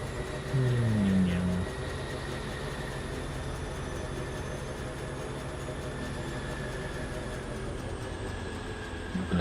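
A train runs along the track in the factory-building video game Foundry, a steady continuous rumble with a faint whine that holds evenly throughout, with a brief louder tone near the start.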